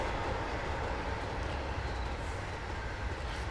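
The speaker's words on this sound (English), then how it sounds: "Let's watch the whole train go through." A Class 86 electric locomotive hauls a train over Shap Summit on the West Coast Main Line, producing a loud, continuous rumble and wheel roar as the cars pass close by.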